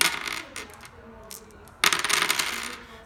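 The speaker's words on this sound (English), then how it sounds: "Dragon attacks back with 6 dice." Hard dice clatter onto a tabletop as six are rolled for a board game, with a short rattle first and then a louder tumbling burst near the end.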